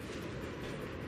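Train rushing past in the Mirror's Edge video game, a brief dense rumbling roar with a steady rolling texture, close and continuous.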